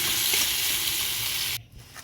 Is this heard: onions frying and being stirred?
yes